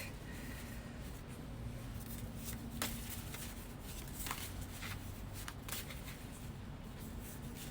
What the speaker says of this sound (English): we're going to shuffle more, pull more messages from this deck